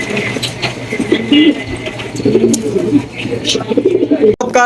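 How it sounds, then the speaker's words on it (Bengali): Racing pigeons, big-sized birds kept at a pigeon seller's, coo repeatedly in low, throaty phrases close by, over a steady low hum of background noise. "আরো একজোড়া রেসার কবুতর আমরা দেখতে পাচ্ছি একদম বিগ সাইজের রেসার"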